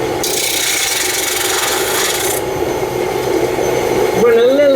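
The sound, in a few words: spindle gouge turning Mahonia wood on a lathe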